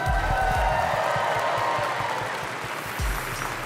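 Crowd applause and cheering in a large arena at the Pokémon World Championships, a dense wash of clapping with scattered whoops, gradually fading toward the end.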